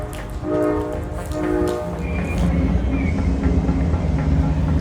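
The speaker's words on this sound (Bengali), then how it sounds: "আমাদের ট্রেন চলে এসছে সিমকেন টু তাসকেন্ট যাওয়ার জন্য" A train pulls into Shymkent station in Kazakhstan, bound for Tashkent, with a loud rumbling approach, a sustained horn blast early on and rolling wheel noise building up close by.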